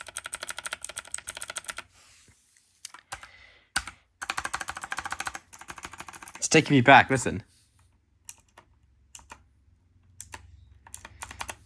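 Bursts of rapid, crisp clacking from a clicky mechanical keyboard being typed on, close and fairly loud, separated by pauses, with someone speaking briefly between the bursts.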